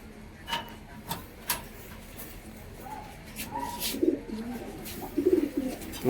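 A male and female pair of fancy pigeons, from a seller's stock of racer, sundori and lakka breeds, coo softly in low repeated bursts that grow busier toward the end, with faint voices and light clicks nearby.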